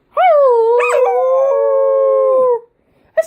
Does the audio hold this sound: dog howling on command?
yes